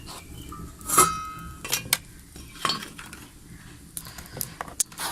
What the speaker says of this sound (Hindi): अब हमें एक तवा चाहिए, हम इसके ऊपर रखेंगे।